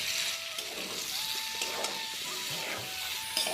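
Tomatoes, green chillies and boiled long beans sautéing in a pan, a soft, steady sizzle with faint stirring scrapes, low and continuous with no talk.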